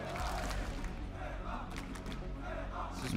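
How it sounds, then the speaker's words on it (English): A live crowd roars steadily in an esports arena at an RLCS Major Rocket League event, a dense and loud wash of cheering with shouts rising above it. "See, there's the live crowd for anybody that was asking."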